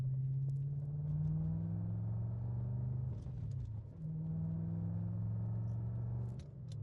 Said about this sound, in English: There is a little bit of noise from what we believe to be the bushings